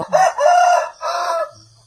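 A rooster crows close and loud in a rural farmyard, one full cock-a-doodle-doo with a strained rising call and a drawn-out tail, standing alone without talk.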